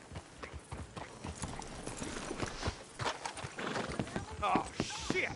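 Steady hoof clip-clops of horses walking in a video game, with voices talking over them and a horse whinnying briefly near the end.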